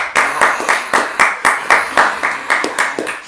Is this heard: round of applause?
yes